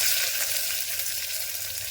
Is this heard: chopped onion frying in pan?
yes